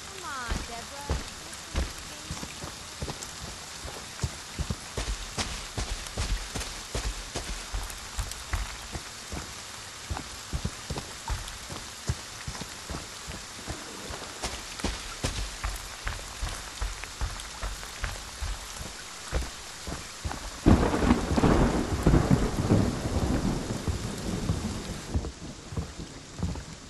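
Rain patters steadily on surfaces in the video game Friday the 13th, and thunder rumbles throughout. A louder roll of thunder swells late in the storm, and a voice speaks at times beneath the weather.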